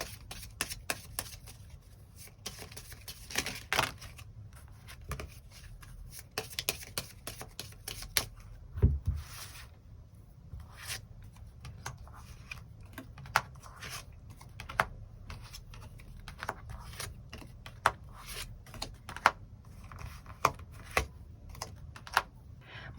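Tarot cards being shuffled and drawn, a steady stream of papery flicks, riffles and light taps close by, continuing for over twenty seconds with no talking.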